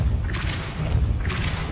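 Two soft whooshing bursts of the Depulso force-push spell in Hogwarts Legacy, each a brief airy swish over a low rumbling game ambience, fairly quiet and close.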